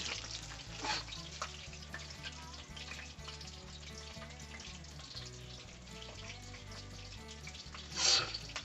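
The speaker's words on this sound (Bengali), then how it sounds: "দেখুন কি সুন্দর লাল লাল করে ভাজা হচ্ছে।" Katla fish frying in hot oil, a steady loud sizzle with crackle throughout and a brief louder burst near the end, no talk.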